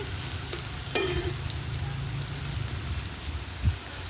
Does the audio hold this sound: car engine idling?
no